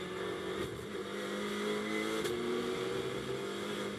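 A GT2 race car passes during qualifying at Misano circuit, its engine note a sustained tonal drone that shifts pitch as it goes by, heard at moderate distance over a faint background hum.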